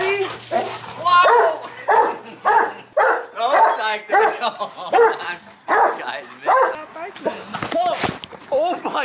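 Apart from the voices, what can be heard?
dog barking and whimpering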